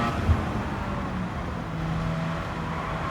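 Race car engine in Gran Turismo 7 held at full throttle out of a tunnel after a downshift, a loud, dense, sustained engine roar with a steady drone.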